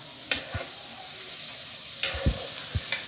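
Chicken nuggets frying in hot oil, turned to brown on the second side, with a steady low sizzle broken by a few sharp spatters and light clinks alone without talk.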